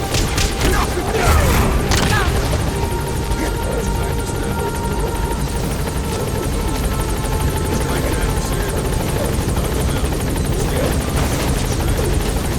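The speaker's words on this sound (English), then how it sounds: "Board the chopper when you're ready for a mission." A helicopter in Metal Gear Solid V: The Phantom Pain roars loudly and steadily throughout, with a few thuds and impacts early on and faint game talk beneath.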